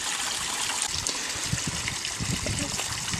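Water pumped through a koi pond more than a metre deep, drawn from several inlets including a shallow area and a surface skimmer, makes a steady, close, broadband rush and trickle that continues throughout without pause.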